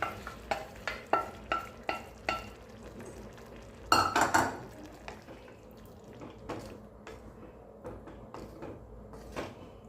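Lentils being stirred into cooked spinach in a pan: repeated sharp metal spoon clinks and scrapes against the pan over a low sizzle, with one louder clattering burst midway and no talking.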